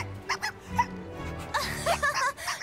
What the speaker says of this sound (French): Oh, un bébé chien.